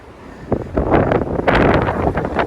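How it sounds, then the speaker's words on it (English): Gusts of wind buffet the microphone on a cruise ship in the Norwegian fjords, rising after a quiet start and roaring in uneven surges. "Now you can see it is windy at the moment."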